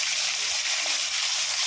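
Fish frying in a pan gives a loud, continuous close-up sizzle with little variation throughout.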